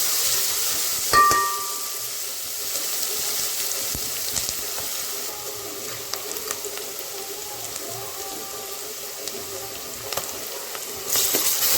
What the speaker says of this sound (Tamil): தேவையான அளவுக்கு எண்ணெய் ஊற்றியாச்சு, வெங்காயமும் போட்டாச்சு.